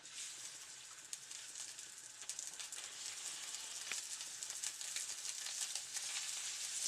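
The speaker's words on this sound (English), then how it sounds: "Now I'm going to cook my salmon. Skin side down first." Salmon fillet sizzling skin side down in a hot pan previously used for shrimp, a steady crackling hiss that builds slightly and holds throughout with no voices.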